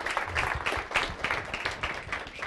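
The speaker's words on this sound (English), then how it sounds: "How about a round of applause for Jeremy?" An audience applauds after a public health preparedness talk, giving short, uneven bursts of clapping from a modest crowd for about two and a half seconds.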